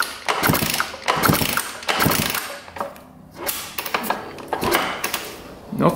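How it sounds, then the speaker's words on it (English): Repeated kick-starts of a 2-stroke dirt bike fitted with an NGK BR9ES spark plug give clunky mechanical strikes and ratcheting about once a second, up close, with a voice speaking between them. "Let's just see what happens when we kick it over."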